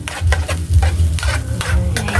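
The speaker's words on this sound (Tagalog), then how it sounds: "Gisahin muna yung yung sibuyas bago po ilagay yung century tuna" Onions sauté in oil in a pan with a loud close sizzle and repeated scraping strokes of a spatula, plus a low hum underneath. No one speaks.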